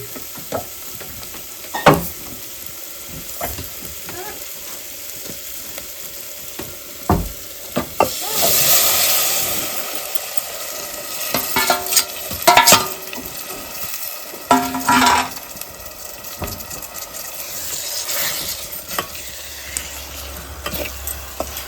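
Murrel fish drop into hot oil in a pan over a village wood-fired stove, sizzling and crackling loudly in bursts with stirring and spatula scrapes against the pan.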